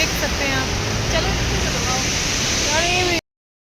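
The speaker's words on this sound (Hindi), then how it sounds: "ये पॉइंट व्यू बहुत अच्छा पड़ा था, झरना निकलता हुआ" A waterfall at a mountain viewpoint in the Harshil valley on the way to Gangotri gives a steady, loud rush of falling water with no breaks. Faint voices sit under the roar before it cuts off abruptly.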